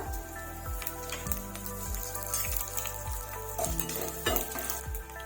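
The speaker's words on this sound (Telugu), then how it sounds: "ఇప్పుడు క్రష్ చేసుకున్న పెప్పర్ ని వేసుకుంటున్నానండి, అలానే ఎండుమిర్చి కూడా." Crushed pepper and dried red chilies frying in a pan for pepper rice, with steady sizzling and repeated scraping stirs at a regular pace, close and moderately quiet, no voices.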